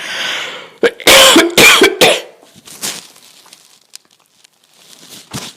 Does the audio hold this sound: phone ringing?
no